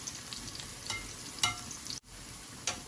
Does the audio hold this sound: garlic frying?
yes